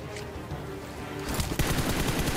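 Automatic gunfire sprays in rapid bursts during an online shooter game, a quick rattling string of shots that grows louder and denser after a quieter start.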